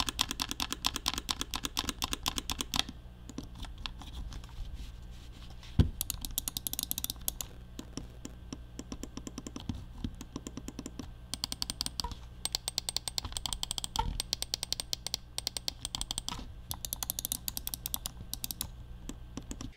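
A Cougar gaming mouse's left and right buttons with Omron switches click rapidly and crisply, in dense bursts with short pauses, close up and alone.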